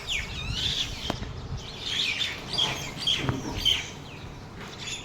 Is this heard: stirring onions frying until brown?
no